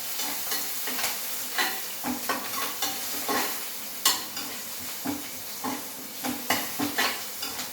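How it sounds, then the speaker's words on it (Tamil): Sliced onions and curry leaves sauté in oil in a pan for urundai kuzhambu, with a steady close sizzle broken by regular scraping stirs of a spoon against the pan, and no talking. "நல்லா வெங்காயம் நல்ல ஸ்மெல் வர வரைக்கும் நல்லா வதக்கிடணும்."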